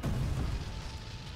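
A deep, booming explosion in the fantasy game Arcane Odyssey, linked to magma conjuring magic: a loud low rumble bursts at the start and then trails off into a dull, sustained roar over about a second and a half.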